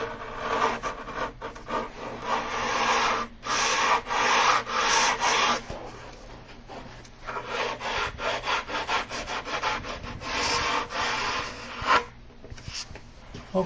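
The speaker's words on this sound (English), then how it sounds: "So you'll have to keep doing it until the sandpaper runs smoothly over the edge" Sandpaper rubbing back and forth along a wooden edge to smooth a replacement edgeband, a steady close abrasive scratching in rhythmic strokes with short pauses between passes.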